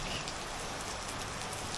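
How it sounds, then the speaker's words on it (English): Steady rain falls outdoors in Koh Lanta, Thailand, a dense, even hiss of drops pattering on surfaces that fills the whole short stretch with no voices. "the rain has started"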